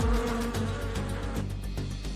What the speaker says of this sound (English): But bees seem to be angry.